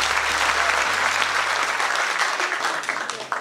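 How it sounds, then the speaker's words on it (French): An audience applauds running mates presented at a 2014 municipal election list launch, a dense, steady roar of clapping that fills the whole stretch and tapers slightly at the end. "je vous demande d'applaudir mes colistiers"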